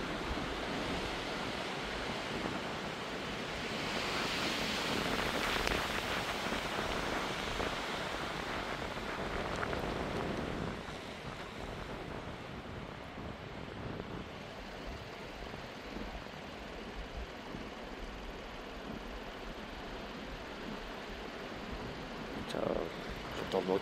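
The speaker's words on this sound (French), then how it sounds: "J'entends le vent qui passe dans les environs" Strong storm wind from storm Herminia roars continuously around the microphone, surging louder in the first half then easing to a steady rushing blast, with faint voices now and then.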